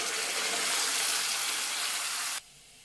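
Water saved from boiling shevla is poured into a curry, a steady, full gushing pour lasting about two seconds before cutting off abruptly into quiet.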